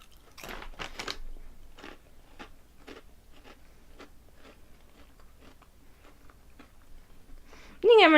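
Honey Butter Chips and Honey Tong Tong snacks crunched during a mukbang, a scatter of sharp close bites and chewing crackles spaced through a quiet room, ending in a brief loud vocal sound.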